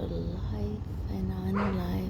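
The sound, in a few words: dog barking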